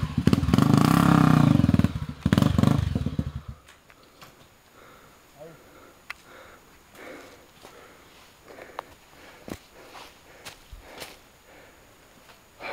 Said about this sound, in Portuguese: O motor não para.